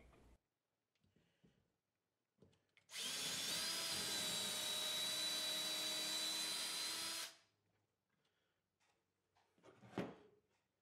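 A power drill driving screws into plywood for hanging garage storage shelves: one loud, steady high whine lasting about four seconds, with quieter handling knocks before it and a sharp clunk afterward. No one speaks.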